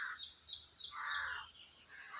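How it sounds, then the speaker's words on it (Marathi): Crows perched in a tree caw in a quick run of harsh calls, faint and distant against a quiet outdoor background under a cloudy sky. "वरडते ती कावळे, झाडावर बसली ती।"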